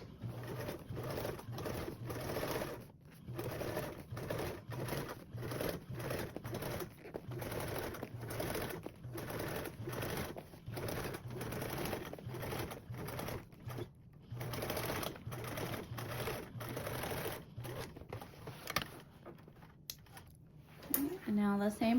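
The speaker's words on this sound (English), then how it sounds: "Now for your second row of stitches, I'm going to do them 1/8 inch away from my previous stitches." A sewing machine stitches a second row along a duffle bag seam, a steady close mechanical whir with rapid needle ticks that pauses briefly now and then, resuming until a short stop near the end.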